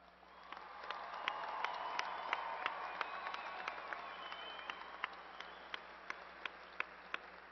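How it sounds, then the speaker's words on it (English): Applause from a crowd at the Angelo State University fall commencement greeting new graduates, a steady wash of clapping that swells and then thins, with a few distinct claps standing out toward the end. "Please join me in a round of applause for our new ASU alumni."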